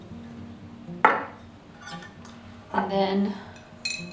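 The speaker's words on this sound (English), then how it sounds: "We're simply going to add 2 tablespoons of flour" Tablespoons of flour go into a sourdough starter, with a few sharp metallic spoon clinks against a container at uneven intervals, close and fairly quiet, while a voice speaks briefly.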